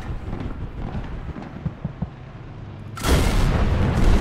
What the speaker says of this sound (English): The German 128 and 105 is just, it's such a good cannon.